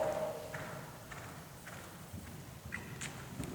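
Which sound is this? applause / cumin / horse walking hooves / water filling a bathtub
horse walking hooves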